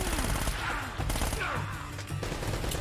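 A mounted turret fires in Uncharted: Drake's Fortune, with loud dense bursts of automatic gunfire and impact crashes that run continuously through a short stretch of game combat.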